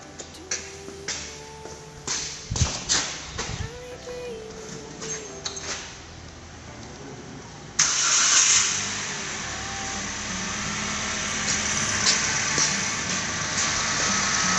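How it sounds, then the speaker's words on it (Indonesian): A car engine is restarted after the ignition coil connector on the first cylinder is plugged back in, curing a shaking engine. Scattered clicks and knocks come first, then the engine catches abruptly and runs loud and steady. Faint voices are heard. "Setelah dipasang, kita coba hidupkan kembali."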